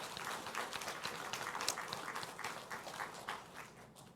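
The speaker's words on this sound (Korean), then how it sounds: "우리 박수로 한번 축복해 주시면 좋겠습니다" Congregation in a church clapping together in applause after being asked to bless devoted members, a steady dense patter of many hands lasting several seconds at moderate volume with no talk over it.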